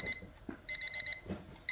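A cheap battery-powered alarm clock rings loudly with a bright electronic bell, giving a short burst, then four quick pulses in a row and another burst starting at the end. It is heard alone and close by.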